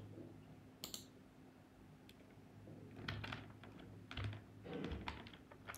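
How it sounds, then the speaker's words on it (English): Computer keyboard typing of code in a WordPress admin screen, irregular clusters of crisp close keystrokes with short pauses between bursts over faint background hiss. "And type our code."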